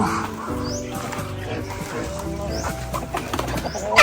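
Chicks and fowl in a backyard free-range farm peep and coo in a busy mix of bird calls, with a dog barking now and then nearby.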